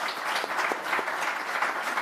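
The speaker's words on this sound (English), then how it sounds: "Let's give them a huge round of applause." Conference audience applauding on stage at a startup ecosystem forum in Bengaluru, a dense steady wash of many hands clapping together, sustained and fairly loud throughout, no voices over it.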